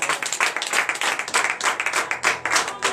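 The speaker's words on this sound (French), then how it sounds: "Donnez de vive acclamation." Congregation in a church in Benin clapping during morning prayer, loud and close, with rhythmic bursts of many hands that rise and fall in a lively, uneven pulse.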